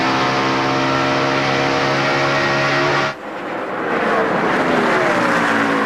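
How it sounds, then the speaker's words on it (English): NASCAR stock cars racing at Charlotte in the 2002 UAW GM Quality 500 roar by with a loud, sustained, tonal engine howl that cuts off sharply partway through, then a rougher engine noise builds back up. "Those cars down at the bottom of the racetrack, the blue car and the brown and white car, racing for a position"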